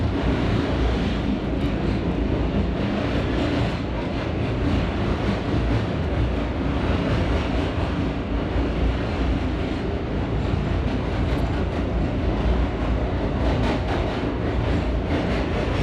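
A B/D line subway train runs steadily over snow-covered tracks at reduced speed, a continuous loud rumble with rail clatter and wheel noise lasting throughout, no voices.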